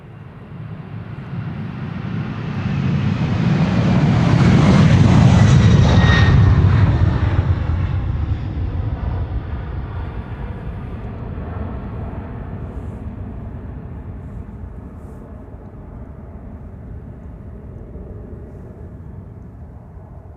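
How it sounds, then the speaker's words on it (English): KLM Embraer regional jet flying by at Amsterdam Schiphol, a roar that swells to a peak as it passes overhead, then fades slowly with a descending whine. "And a nice flyby in the background of a"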